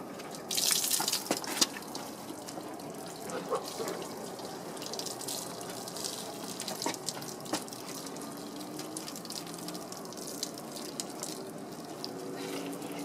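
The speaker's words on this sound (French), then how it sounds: "Il faut penser à chaque fois de rincer votre gant pour enlever tout ce qui est contaminant sur la carrosserie." A car wash mitt is rinsed in water while the bodywork is shampooed, giving steady splashing and dripping with a brief louder slosh near the start, continuous and close with no voices.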